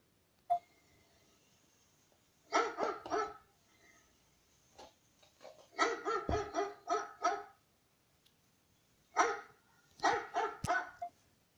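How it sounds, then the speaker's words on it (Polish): Dogs bark in three separate clusters of rapid barks, a little distant, with quiet gaps and a few faint knocks between the bursts. "Co to za szczekanie?"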